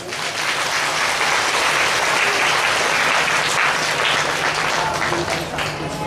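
Sustained applause from an audience at a religious gathering honoring Mahamandaleshwar Yati Narsinghanand Saraswati, a dense, steady wash of clapping that stays loud and even for the full six seconds with no words over it.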